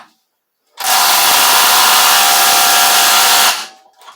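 A cordless drill whirs loudly and close by for about three seconds at a steady pitch, then spins down into quiet.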